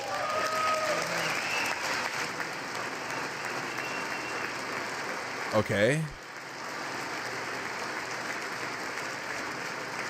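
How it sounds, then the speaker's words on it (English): Applause fills the congressional chamber at a State of the Union address, a dense, even clatter of many hands. It ebbs near the middle as a voice briefly speaks, then resumes more softly. "I wasn't sure if anybody even on this side was going to applaud for that"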